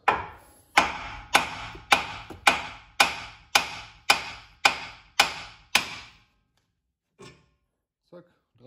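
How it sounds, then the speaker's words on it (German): Hammer striking the wheel bearing housing of a Nissan Qashqai from the side, about ten loud, evenly spaced metallic blows that ring briefly, followed by a few faint knocks. "Zack, 3-4 Mal geschlagen. Schön von der Seite aufs Radlagehäuse."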